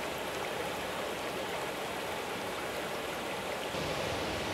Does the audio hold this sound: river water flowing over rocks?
yes